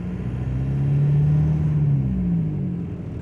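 A 1.9L TDI diesel-swapped Toyota pulling away in first gear and four-low while towing a Dakota at about 11,000 lbs total, a low diesel drone rising gently as it moves off, close and steady with no talking.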